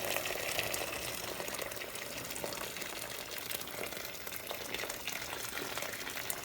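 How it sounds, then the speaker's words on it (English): Hot water poured into a pot of winter beef soup, giving a continuous hissing, bubbling rush of liquid at a steady low level for several seconds, with no talking. "Here comes the hot water."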